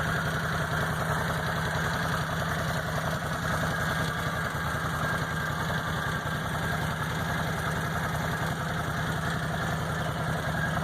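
A 2014 Can-Am Outlander Max XT 800R ATV idles steadily up close, a continuous low engine rumble with a slight knocking pulse and vibration that stays even throughout, with no talking.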